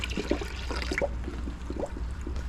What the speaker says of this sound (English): Now I'm just gonna throw it in some more water in here.